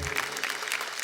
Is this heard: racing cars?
no